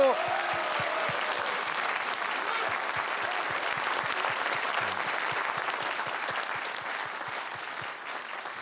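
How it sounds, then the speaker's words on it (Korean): A large audience applauding steadily at a Korean political victory speech, a dense wash of clapping that holds throughout and fades slightly at the end, with a voice briefly heard at the start. "박수!"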